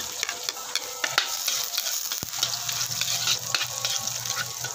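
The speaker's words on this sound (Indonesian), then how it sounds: "Magigisa lang ako ng bawang." Garlic sautéing in a pan while ginataang kamansi with pork hock is being cooked. A steady, fairly soft sizzle runs throughout, broken by occasional stirring scrapes and one sharp clack.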